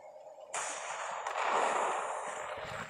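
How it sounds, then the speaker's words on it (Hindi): A tank blowing up in Call of Duty, a sudden loud blast that swells into a sustained roaring rumble and crackle lasting a few seconds, with no talking. "हमारा टैंक भी फूट चुका है"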